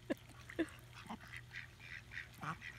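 Ducks being fed quack softly and sporadically at a distance, a scattering of short nasal calls over a low outdoor background hum.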